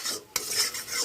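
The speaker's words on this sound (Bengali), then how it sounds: "মশলাটা আমি ভালো করে কষে নেব" A spoon stirs masala frying in a pan for fish and paneer kofta. There is one brief, crisp scrape of metal on the pan over a soft background hiss.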